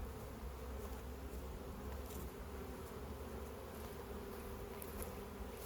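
Honey bees buzz steadily around a honey-filled drone frame, a dense, continuous hum of many insects close by, faint overall and with no talking.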